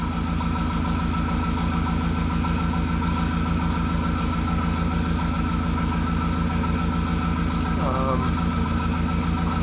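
Audi 1.8T engine idling with a misfire, a loud close rumble with a steady throb and uneven pulses running throughout, plus a brief squeak near the end.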